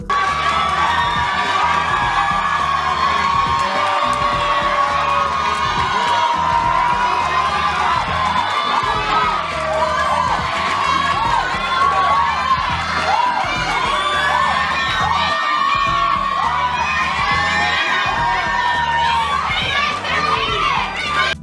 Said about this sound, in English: this created a whole ruckus in the crowd. Some were cheering them on, and others were booing them